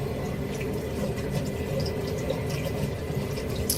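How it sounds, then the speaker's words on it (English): Lukewarm water running steadily from a tap while rinsing clear aligners, a continuous close splashing flow with no pauses. "not cold, but not hot water in it, like in between water. Let that run a little bit."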